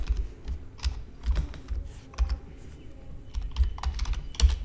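Quick, uneven keystrokes clack on a computer keyboard as C code is typed, close and fairly loud, with short pauses between clusters of presses.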